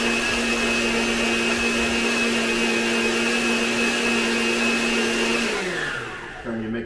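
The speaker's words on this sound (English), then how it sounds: "Turn your mixer off and repeat." An electric mixer beats an egg into eclair dough, a steady loud whir that holds for several seconds and then winds down as it is switched off.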